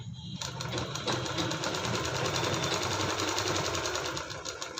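Sewing machine stitching a fabric machine cover made from waste cloth, a continuous close rapid whirring hum that runs steadily after a brief start.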